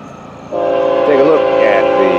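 The horn of FEC locomotive 101 blasts loudly in a sustained chord over the rumble of the nearby passing train, the pitch wavering slightly as it sounds.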